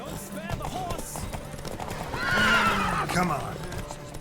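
Horses gallop in a race in the video game The Witcher 3, with rapid clip-clop hoofbeats and a loud whinny swelling midway through, all under game music.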